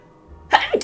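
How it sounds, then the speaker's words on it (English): A single quick sneeze, sharp and close, following a short breathy intake, from a woman chatting about knitting patterns. "I'm gonna sneeze."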